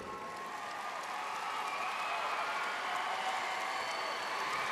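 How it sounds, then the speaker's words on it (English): A graduation audience claps together in a large hall, a dense, steady wash of applause holding at an even level throughout, with no clear speech. "Please give a round of applause as a show of gratitude."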